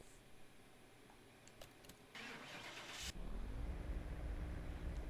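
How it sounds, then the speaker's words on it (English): Car engine in Car Mechanic Simulator 2021 with every power upgrade fitted, starting up and then revving, settling into a loud, steady drone after a brief burst of noise. "So, the engine sounds in this game sounds so shit."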